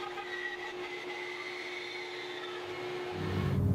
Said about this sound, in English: I'll use my bandsaw to cut away a bunch of material on the outside of the fretboard.